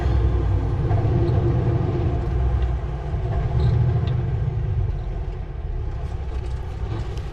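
A car engine pulls uphill in low gear on a road near Adams Lake and Sicamous in Shuswap, British Columbia. It gives a steady, loud rumble heard from inside and slightly eases toward the end.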